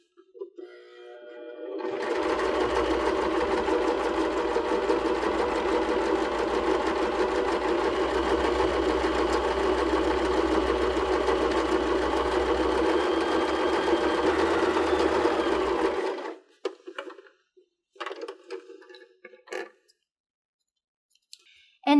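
A sewing machine runs in one long continuous burst, stitching along the fold of a cork purse strap, loud and steady for about fourteen seconds before stopping, followed by a few faint clicks and handling sounds.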